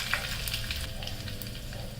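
Mustard seeds and curry leaves sizzle in hot oil as a chutney tempering is made, a dense, close, continuous frying crackle with small pops throughout.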